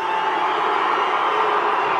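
A loud lucha libre wrestling crowd roars and cheers for the wrestlers, a continuous wall of massed voices and applause filling the arena without a break.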